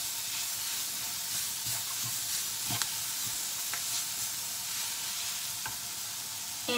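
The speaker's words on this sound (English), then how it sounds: "When you saute that about 1 or 2 minutes," Carrots sautéing in a hot pan give a steady, close hiss of sizzling, with a few faint clicks of stirring scattered through and no voices.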